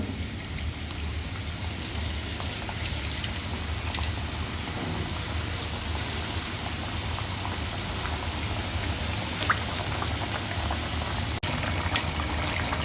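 Milk puli pitha, a Bangla sweet dumpling, frying in hot oil with a steady, dense crackling sizzle throughout, close and fairly loud, with a couple of brief clinks near the end.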